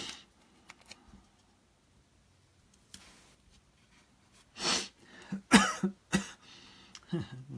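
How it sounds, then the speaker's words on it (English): Several harsh coughs in bursts after a mostly quiet stretch, close to the microphone, with a few fainter sounds between. "This is stupid, this cough."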